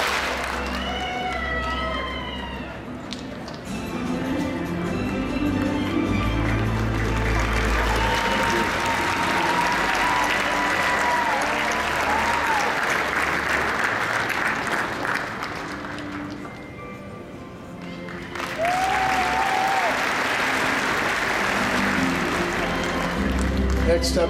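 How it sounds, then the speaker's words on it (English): A large convention-hall audience at an international service club's world convention in Las Vegas breaks into loud, sustained applause and cheering. The applause dips briefly midway, then swells again, with a few shouts rising over it. "One clap."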